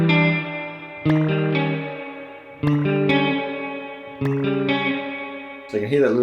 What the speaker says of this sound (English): you can hear that little chirp at the start of the note